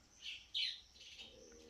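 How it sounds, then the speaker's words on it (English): Birds chirp outdoors in a couple of short, high tweets, one slightly louder than the other, followed by fainter twittering at a moderate distance. "I love those birds chirping."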